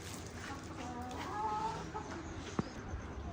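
Hens clucking in a Punjabi village yard, soft scattered clucks and calls at a distance under quiet background noise, with one sharp brief knock near the end.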